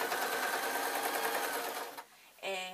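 A sewing machine stitches the shoulder seam of an office-style work dress, whirring steadily up close, then stopping briefly before starting up again.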